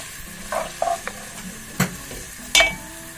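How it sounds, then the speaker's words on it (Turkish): Onions sautéing in hot oil, a soft steady sizzle broken by a few sharp scrapes and clinks of stirring, close by with no talking. "3 küçük boy soğan. Bunları biraz kavuralım."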